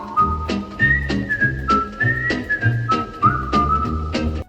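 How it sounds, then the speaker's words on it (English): The Andy Griffith Show theme tune whistled clearly over a bouncy guitar and bass accompaniment, carrying a cheerful, easygoing melody throughout. "that famous whistling theme actually started out as a real song with real lyrics"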